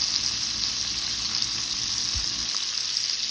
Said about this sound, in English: Taking these shrimp and I'm putting them into the skillet